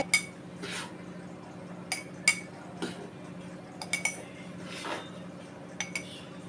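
Cooled homemade nut powder is spooned into a storage jar, giving a series of light metallic clinks and taps of a spoon on the container, spaced irregularly over a low, quiet room hum with no talking.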